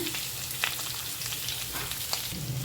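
Potatoes fry in hot oil with green chillies and curry leaves for a fasting-day thali, a soft continuous sizzle dotted with occasional light clicks and pops.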